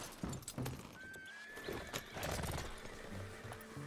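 A horse whinnies with a rising, drawn-out neigh in Red Dead Redemption 2, clip-clop hoofbeats and outdoor game ambience around it.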